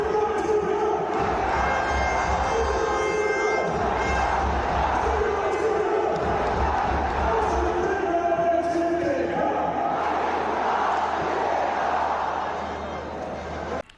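Large stadium crowd of Indian cricket fans chanting together, a dense, continuous roar of massed voices with rhythmic shouted phrases, loud and sustained before easing slightly near the end.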